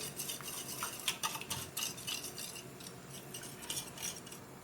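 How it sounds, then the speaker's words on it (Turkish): A spoon clinks and scrapes against a bowl while stirring vinegar, salt and baking powder for baklava dough, quick irregular taps that stay faint and close, with no voices. "Şöyle bir karıştırayım."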